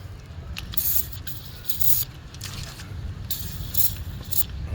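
A hissing aerosol spray of PB Blaster penetrating oil comes in several bursts over steady background noise, the sprays close and moderately loud, on a Chevy Captiva 2.4L engine.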